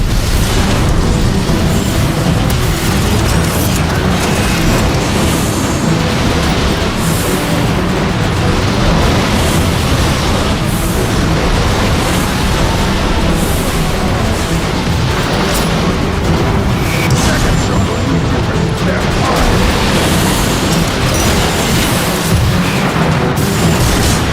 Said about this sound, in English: They're shelling the plaza! It's coming from that warp cannon.